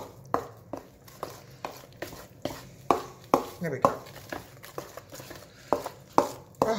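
Chocolate cake batter gets mixed by hand in a bowl, with a steady run of soft taps and scrapes of the utensil against the bowl, while a voice speaks briefly.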